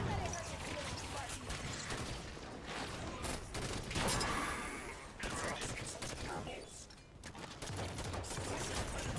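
Enemy gunfire in the Halo 5: Guardians campaign, rapid bursts of shots and impacts crackling in waves, mixed with game effects and fairly loud throughout.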